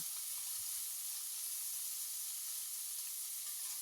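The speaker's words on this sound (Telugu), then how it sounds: "ఇలా అంతా బాగా ఆనియన్ ఫ్రై చేసుకునేసి ఇందులో అల్లం వెల్లుల్లి పేస్ట్ వేసుకుందాం" Ginger-garlic paste frying with fried onions for brinjal biryani, a soft, even hiss of sizzling oil held steady and fairly faint, with no distinct stirring strokes.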